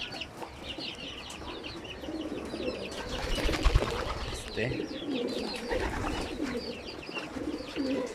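Male flying pigeons coo repeatedly in soft, overlapping rolling calls close by, with faint human voices in the background.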